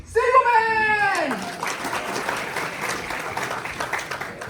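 An audience at a personal branding class for about 500 students applauds, a steady wash of clapping that follows a loud drawn-out shout. The clapping stays even and moderately loud to the end.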